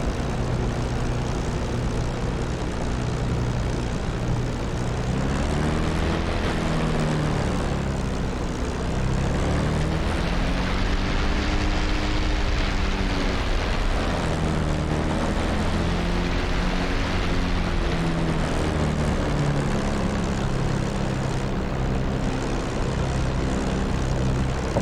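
Steady, loud propeller-plane engine drone from a flight simulator game as the airplane taxis along a runway, with a slowly wavering engine pitch and no other sounds.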